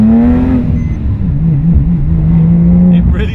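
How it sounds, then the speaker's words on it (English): A Porsche 997.2 GT3 engine heard from inside the car, droning loudly as revs dip and rise during a downshift, with a steady tone that wavers and climbs. "That was my attempt at heel and toe."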